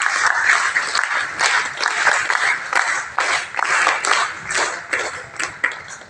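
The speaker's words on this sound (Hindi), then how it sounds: "हम उनका तालियों से अभिनंदन करेंगे" Audience applause at a Hindi-language public gathering honouring an elderly guest, with dense, steady clapping that fills the room for several seconds, loud and close.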